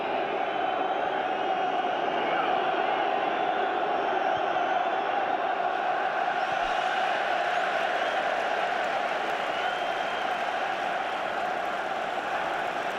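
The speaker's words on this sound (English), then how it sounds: "I think even the crowd here are getting restless now." Restless football crowd at a 2006 Manchester United match, a distant, steady roar of many voices filling the stadium with a broad hum and scattered whistles, unbroken throughout.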